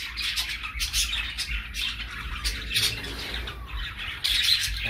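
Budgerigars and cockatiels in an aviary give repeated sharp squawks and chirps in irregular bursts, fairly close, with no voices.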